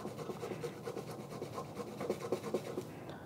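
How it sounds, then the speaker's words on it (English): Two garlic cloves are rubbed against a grater for a teriyaki chicken dish, giving a quiet, rapid run of rasping scrapes close to the microphone. "instead of chopping up my garlic, I'm just going to grate it in as well"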